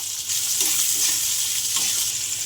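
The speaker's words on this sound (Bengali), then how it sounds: "কড়াতে তেল দিয়ে দিলাম, গোটা জিরে দিয়ে দিলাম, পেঁয়াজ কুচিটা দিয়ে দিলাম" Chopped onion and whole cumin fry in oil in a wok, making a continuous bright sizzle with soft stirring noises, close and moderately loud.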